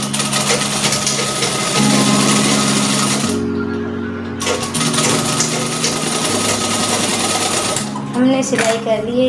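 A sewing machine stitching a straight seam on a belted salwar, a loud steady mechanical whirr that runs almost without pause and shifts pitch slightly as the speed changes, with brief stops and a voice heard near the end.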